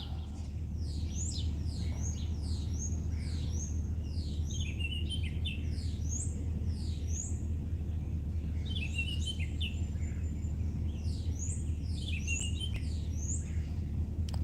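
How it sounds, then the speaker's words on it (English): Outdoors among blue jays and mourning doves at a corn-strewn feeding spot, faint birds chirp in repeated bursts over a steady low rumble of background noise. "We got blue jays and mourning doves"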